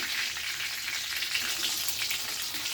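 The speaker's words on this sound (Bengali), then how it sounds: "হালকা করে করে ভেজে নিয়েছি এবার আমি এক পিস এক পিস করে তুলে নিচ্ছি" Pieces of a large katla fish frying lightly in hot oil: a steady, dense sizzle and crackle, close and even throughout, with no speech.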